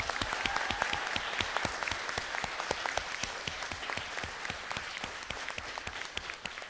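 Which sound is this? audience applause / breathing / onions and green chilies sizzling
audience applause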